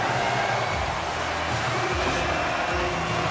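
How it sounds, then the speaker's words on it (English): A dense, steady roar of a hockey arena crowd cheering after a goal in the NHL 26 video game, loud and continuous throughout with no clear pauses. "The Hurricanes crowd has really come to life here early in this first period after that goal."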